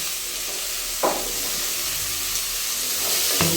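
Tomato pieces frying in a pan over fried ginger paste for vegetable rice: a steady loud sizzle with two brief stirring clatters.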